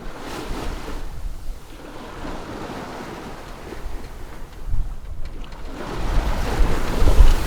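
Wind roars and ocean waves surge around a sailboat on an open-sea crossing, building and swelling louder toward the end with rough gusts buffeting close by, and no voices.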